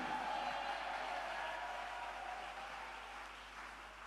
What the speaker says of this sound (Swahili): Shangilia kwa makofi